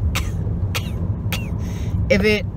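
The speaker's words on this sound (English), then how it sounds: "Okay, so the puppy's coughing." A lively puppy gives a series of sharp, dry coughs close by, three quick bursts spaced apart and then a harsher, throaty hack, over a low steady background hum.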